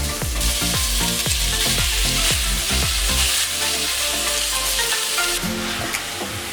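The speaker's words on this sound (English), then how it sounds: "I got my guy Ethan stirring up that beef stroganoff with the mushrooms and the beef in there." Beef stroganoff with beef and mushrooms sizzles loudly in a hot pan while being stirred, the steady frying hiss broken by a series of clanking utensil strokes early on, close up with no voices.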